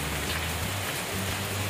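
Steady rain pours down at a cattle pen, a dense, even hiss of drops on surfaces with no pauses and no voices.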